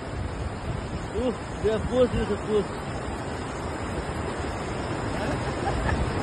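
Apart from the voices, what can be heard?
mountain river flowing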